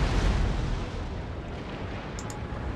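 Ship cannon fire in Napoleon: Total War, a heavy low boom that rolls out and decays into a long rumbling tail, loud and close.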